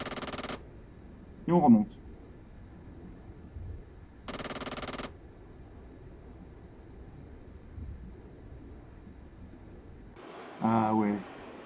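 Anti-aircraft gun bursts in a video game, three short loud volleys separated by quiet stretches, with someone speaking briefly between them.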